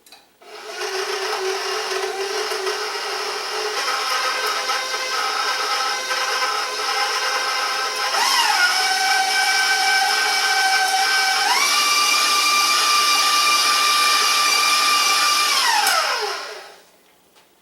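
An electric hand mixer creams five tablespoons of butter in a bowl for a blueberry coffee cake, a steady loud whine that shifts pitch upward twice as the speed changes, running continuously before cutting off.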